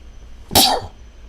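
A single sudden, loud sneeze from a person close by, one sharp breathy burst in an otherwise quiet room.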